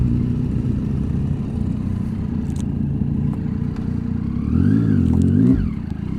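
A Suzuki Hayabusa motorcycle engine runs at a steady rumble, then revs up briefly and falls back, loud and close.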